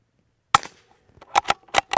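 Suppressed .22 shots through a titanium modular silencer strike a dirt berm, giving one crisp crack followed by a quick run of sharp snapping impacts, close and clear against silence.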